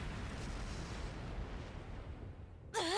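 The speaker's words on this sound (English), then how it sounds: "Flash grenade! Everyone down!" A flash grenade detonates in the Trails of Cold Steel III game, a loud, roaring, noisy blast that decays over a few seconds before a sudden sharp ringing tone cuts in at the end.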